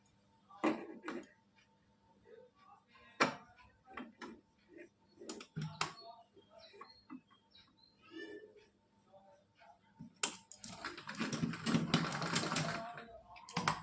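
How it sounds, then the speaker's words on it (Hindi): A sewing machine stitching a net fabric dress gives scattered ticks and taps, then a dense burst of fast mechanical whirring near the end, with soft talk between. "अब इस पे सिलाई लगाएंगे।"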